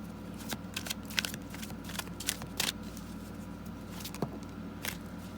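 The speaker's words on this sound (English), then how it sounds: "Let's shuffle it one more time." Cards are riffled and shuffled in quick crackling bursts, several sharp flutters close by with brief pauses between them.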